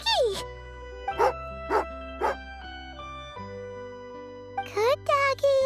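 Tugarin, a dog in the video game Genshin Impact, gives several short bright barks, a single one and then a quick cluster near the end, over a soft held musical background.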